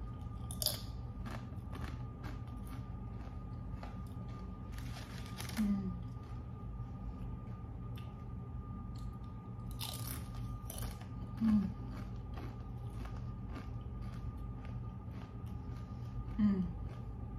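Chips with queso from Taco Bell being chewed close up, soft crunchy bites and wet mastication running steadily with a few louder crunches, no talking.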